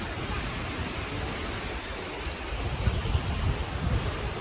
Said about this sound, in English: You can see even here, it's not a bad view of the Kegon no Taki waterfall.